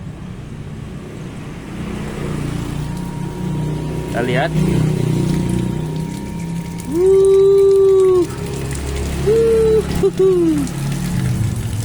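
A water pump motor hums and water gushes steadily while a person speaks, with occasional squeaky tonal whines rising and falling.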